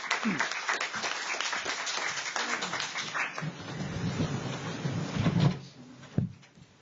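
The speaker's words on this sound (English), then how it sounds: "can you give a big round of applause as I invite Dr. Park Jin to come up" An audience at a conference forum applauds as a guest speaker comes up. The moderately loud clapping is somewhat muffled and fades, with a few bumps and handling noises toward the end.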